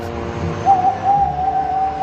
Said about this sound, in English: What was that? Clattered Max. An owl